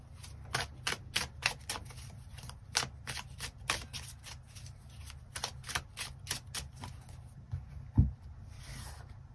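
Tarot cards shuffled in the hands, a close, rapid series of crisp riffling bursts in an uneven rhythm, followed by a soft thump as a card is drawn and laid down.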